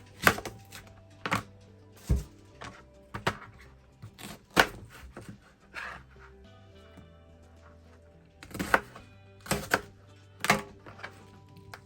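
Knife chopping an onion on a cutting board while preparing a homemade winter cough and immunity syrup: irregular sharp knocks come in clusters, some loud and close, separated by brief quieter gaps.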